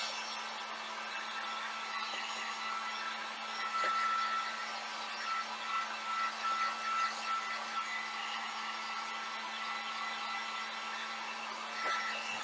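A hair dryer blows steadily on a handmade craft shelf sitter, a continuous even whoosh with a low hum, close and constant throughout with slight fluctuations.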